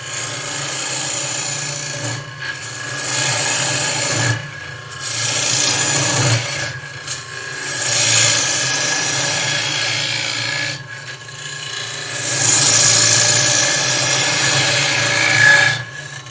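Wood being hollowed on a woodturning lathe, a steady loud rasping scrape of the tool against the spinning workpiece in long passes broken by brief pauses, close and alone without talk.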